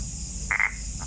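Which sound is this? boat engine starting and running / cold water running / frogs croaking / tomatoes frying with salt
frogs croaking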